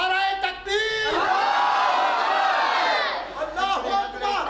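A large crowd at a mehfil-e-milad religious gathering shouts the takbir slogan in unison after a voice, a loud, sustained roar of many voices that swells and then fades.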